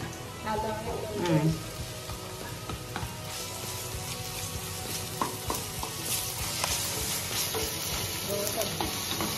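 Ginger-onion paste frying in a pan while being stirred, a dense, crackling sizzle with frequent spoon scrapes, close and continuous, with a bright spitting hiss rising toward the end.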